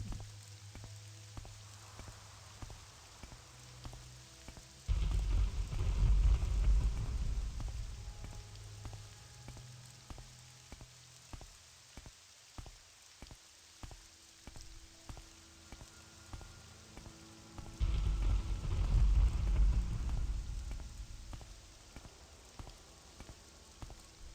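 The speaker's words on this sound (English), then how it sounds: "It's thundering too, which is a bit scary." Rain patters steadily in the video game Morrowind, broken by two deep, loud rolls of thunder that swell and fade, with faint clicks scattered throughout.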